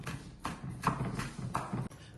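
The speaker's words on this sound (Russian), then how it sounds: "Также мелкими кубиками шинкуем лук." Knife finely chopping onion into small cubes, a few soft, muffled strikes on a cutting board at a steady, unhurried rhythm, close by under faint background noise.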